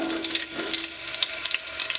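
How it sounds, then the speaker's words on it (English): Two medium-sized potatoes shallow fry in a pan, a soft steady sizzle with light crackling pops, close by and with no talking. "and let us shallow fry it"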